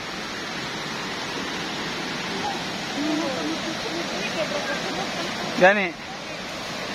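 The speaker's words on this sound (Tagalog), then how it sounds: "Lapitan natin ang falls." Waterfall near Davao City roars as steady broadband rushing water close by, with people talking over it throughout.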